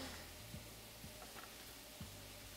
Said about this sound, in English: if heaven had a sound, it would be sizzling vegetables